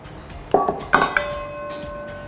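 A whisk stirs an agar-agar pudding mixture of Mr. Jelly powder, granulated sugar and water in a bowl, giving a few quick, close metallic clinks and pings against the side, then a fading ring.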